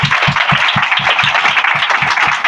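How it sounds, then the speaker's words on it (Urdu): A church congregation claps loudly in unison at an Easter service, with steady rhythmic beats over a dense wash of scattered applause, close and filling the whole moment with no talk. "اپنے لیے زوردار اپنے ایمان کے لیے تالیاں بجائیے۔"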